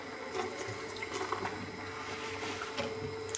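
Water pours into a stand mixer bowl while vegan marshmallows are made, a quarter cup splashing and trickling steadily for a few seconds, faint and close with no talk.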